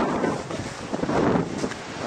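Strong wind buffets the microphone in a continuous, rumbling roar with gusty swells, on a snowy walk down a lane to a farm. No voices.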